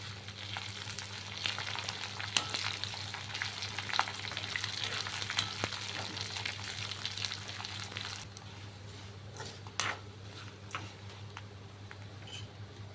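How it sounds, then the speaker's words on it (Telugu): Dried red chillies, cut into small pieces, crackle steadily in hot oil with curry leaves while tempering for gongura pickle; a continuous close sizzle with scattered sharp pops over a low steady hum. "దీంట్లో ఇప్పుడు ఎండుమిర్చి, ఒక 10 ఎండుమిర్చి అండి, చిన్నగా ముక్కలు కోసుకుని ఇలా వేసుకోవాలి."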